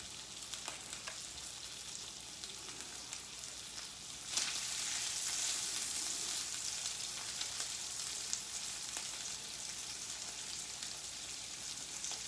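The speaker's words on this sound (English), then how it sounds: "So I thought I'll cut them up and make street tacos with them. Okay, let's see, they're cooking now." Thin steak pieces cut for street tacos fry in a pan with a constant crackling sizzle that swells louder partway through and then holds steady, close by and with no talking.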